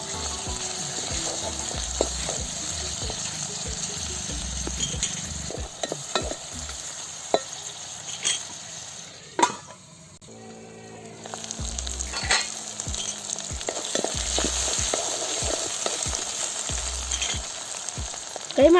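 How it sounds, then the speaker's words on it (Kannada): Onions frying in a pan for village-style mutton keema gojju, a steady close sizzle with repeated stirring scrapes, briefly quieter in the middle before the frying resumes loudly. "ಈರುಳ್ಳಿ ಫ್ರೈ ಆಗಿದೆ."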